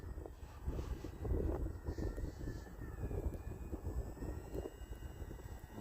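Engine of a Tundra light airplane idling at roughly quarter throttle on snow, a steady low rumbling drone with wind-like broadband noise that holds fairly even and close throughout.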